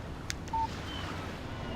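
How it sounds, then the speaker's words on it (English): In the game Alan Wake a phone gives a brief text-message alert: a couple of quick clicks followed by a single short electronic beep, faint and alone over low background hiss. "Text message from Barry."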